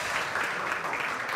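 A short burst of applause from a crowd at a sommelier competition, steady clapping that fills the whole moment with no voices over it.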